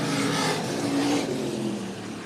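IMCA stock cars racing on an asphalt oval at a speedway: a sustained engine roar heard from a distance, with a pitch that rises slightly and then eases away as the cars pass, steady and fairly faint with no talk.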